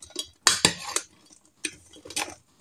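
Garlic bread is tossed and stirred in a large cooking pot, with a few sharp metallic scrapes and clinks of a utensil against the pot spaced by short pauses, fairly quiet and close.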